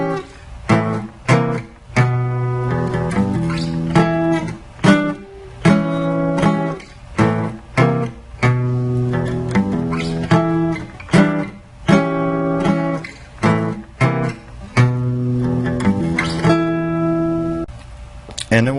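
A guitar plays a song's solo slowly: a close, loud run of plucked notes and short phrases with frequent brief pauses, heard alone without talk.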